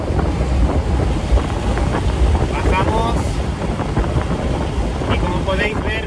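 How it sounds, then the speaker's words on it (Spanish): Wind roars and buffets into a convertible car driving at speed, around 120 km/h, with the windows lowered and nothing behind the seats, a loud constant rush under a voice. "te viene todo el aire directo y te va dando golpes todo el rato en la cabeza"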